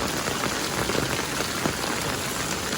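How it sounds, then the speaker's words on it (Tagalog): Heavy rain pours steadily outdoors, a dense, even hiss of drops drumming on surfaces with no break throughout. "Papakita sa inyo ha kung sa kakusog sa ulan ha."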